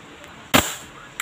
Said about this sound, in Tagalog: Pangatlong putok niya na to guys